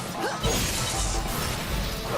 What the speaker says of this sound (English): With crashing waves, we'll take gremlins down,